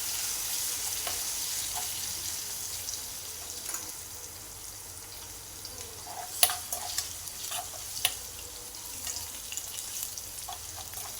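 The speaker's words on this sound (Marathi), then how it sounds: "कढीपत्ता चांगला परतून घ्यावे" Curry leaves frying in a pan, a low steady sizzle with scattered sharp crackles and pops, a few louder ones clustered midway, close and unaccompanied by talk.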